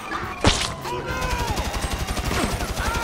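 GTA 5 gunfire opens with one loud close shot, then becomes a rapid, rhythmic burst of automatic fire that continues steadily to the end, with a faint background of other game sounds.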